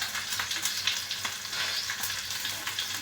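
Garlic pieces fry together with onion in a pan, giving a continuous, even sizzle with small crackles and a few stirring sounds, fairly quiet and close, with no talking.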